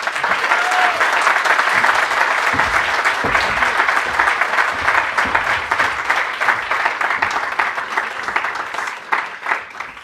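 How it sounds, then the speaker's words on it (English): Large audience at the Hertie School in Berlin applauds a guest speaker, loud continuous clapping from many hands that holds steady for about ten seconds before thinning slightly toward the end. "please join me in giving a warm round of applause to our distinguished guest speaker, Mr. Rahul Gandhi."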